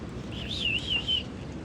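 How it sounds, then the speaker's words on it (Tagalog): A single pet bird gives a thin, wavering whistled chirp lasting about a second, over a low background rumble. "Mga alaga nating ibon"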